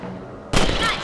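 A single sharp gunshot from Red Dead Redemption fired while hunting rabbits, bursting out loud and close after a quiet lead-in with a brief ringing tail.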